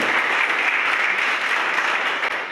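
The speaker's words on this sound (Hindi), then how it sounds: "आपकी तालियों में भी जोर होना चाहिए" A crowd at an Independence Day speech in a government polytechnic claps loudly and continuously, a dense wash of applause holding steady throughout.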